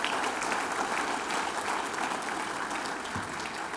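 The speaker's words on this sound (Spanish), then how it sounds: "Afirmémoslo con un fuerte aplauso para que se quede bien asentado y bien grabado" A congregation at a church service claps loudly in a sustained, even wash of applause lasting several seconds.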